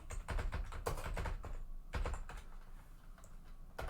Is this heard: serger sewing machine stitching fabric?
no